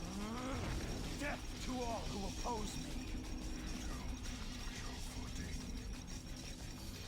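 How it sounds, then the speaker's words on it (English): Elevator mechanism descending in the Shadow the Hedgehog video game, a steady rumbling grind with ratcheting, gear-like clanks, moderately loud and continuous, with a voice talking over it at the start. "I have to wait for the elevator to come down"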